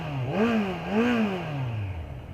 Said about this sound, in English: Just listening to that engine, oh yeah.